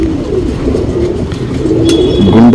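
Breeding flyer pigeon of a champion Rekdhar Patta line cooing close by, soft low coos repeating over a constant rustling background, with a brief higher chirp near the end.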